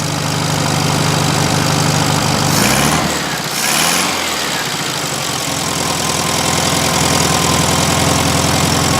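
A VW Super Beetle engine idles after carburetor idle jet work, a steady, close, loud putter with a brief dip and surge in the middle before settling back to an even idle.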